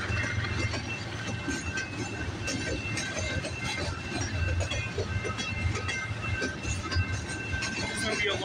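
CPKC 528, a Canadian Pacific Kansas City freight train, rolls past in Michigan near Delray Junction, a steady broad rumble of wheels and railcars with faint clacking, continuous and fairly close throughout.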